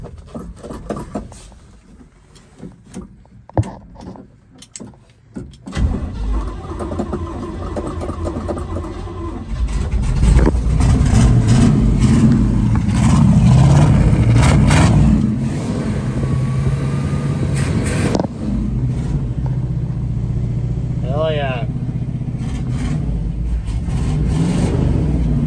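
A 1969 Chevy K10 pickup with a 350 V8 that sat for over 40 years cranks in uneven bursts, catches, then roars into loud sustained revving and rough running, close by, with faint voices in the background.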